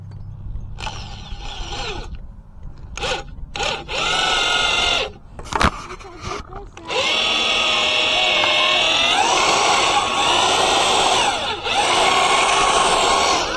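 A power drill bores holes into pole barn posts, giving loud sustained whirring and grinding with changing pitch, broken by short stops and restarts.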